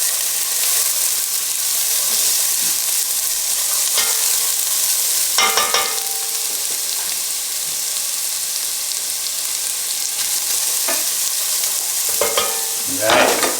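Onions and carrots sautéing in a pan over lowered heat, a bright continuous sizzle broken by several sharp scraping and stirring strokes of a utensil against the pan, with no speech.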